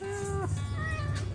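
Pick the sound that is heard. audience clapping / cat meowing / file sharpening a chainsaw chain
cat meowing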